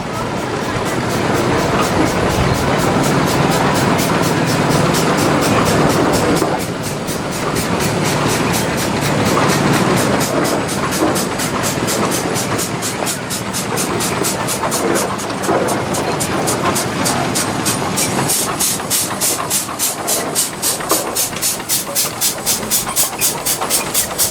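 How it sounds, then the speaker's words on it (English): A 1913 Case steam engine runs in a tractor parade, a loud steady mechanical chuffing and rumble with a fast rhythmic beat building toward the end, continuous throughout with crowd background. "a 1913 Case steam engine"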